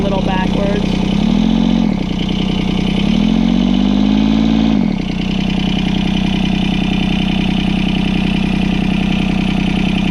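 A John Deere 2653A mower's 3-cylinder Yanmar diesel engine running steadily up close, loud and even, with the throttle rising and falling twice early on.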